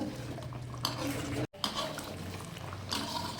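Chicken korma gravy being stirred in a pot, with close scraping and clinking of a spoon against metal over a soft bubbling simmer, broken by one short silent gap.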